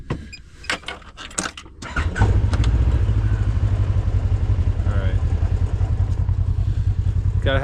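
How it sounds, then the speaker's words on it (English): An off-road machine on a trail is started after a few close clicks and clatters; the engine catches at once and settles into a loud, steady, rumbling idle that runs to the end, with a voice briefly audible over it. "Gotta have the machine idling so you don't have too much draw on your battery."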